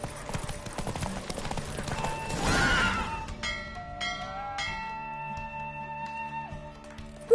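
Horse hooves clip-clop at a steady gallop during a race in The Witcher 3, with a whinny partway through, set against game music and in-game dialogue.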